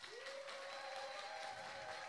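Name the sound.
audience applause at church worship service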